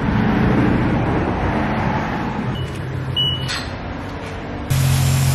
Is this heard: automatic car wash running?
yes